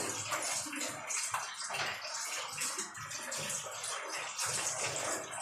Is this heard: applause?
no